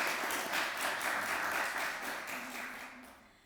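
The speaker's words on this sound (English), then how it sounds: "Let's have a round of applause for the graduates and all of the hard work they've put in during this program." An audience applauds graduates at a university recognition ceremony, a sustained dense patter of many hands in a hall that gradually fades toward the end.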